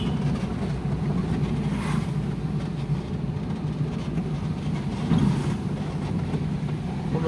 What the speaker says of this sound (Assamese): গৈ আছে ভ্যান গাড়ী